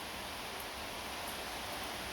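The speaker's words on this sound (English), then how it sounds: "The rain's pushing down out there, which doesn't help." Rain falling outside forms a steady, even hiss that stays faint throughout, with no speech over it.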